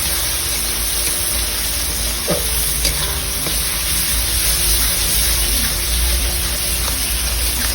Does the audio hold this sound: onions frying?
yes